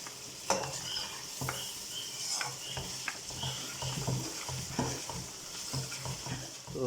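Vegetables with crushed red chili and biryani masala are stirred in a hot pan, a soft sizzle running underneath repeated scraping strokes of a spoon against the metal, close by and steady.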